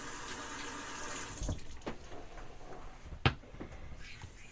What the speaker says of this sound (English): Rinse the stone really well